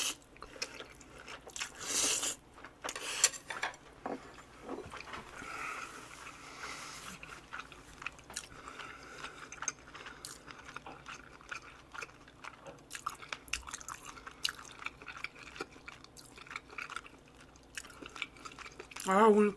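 Close-up mukbang eating of boiled pork wrapped in kimchi with bibim noodles: steady wet chewing, crunchy bites and smacking throughout, with occasional brief voice sounds.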